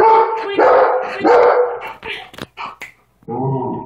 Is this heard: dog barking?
yes